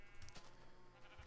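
A sheep in a survival-crafting video game bleats in a few short, close game-audio calls over steady background sound.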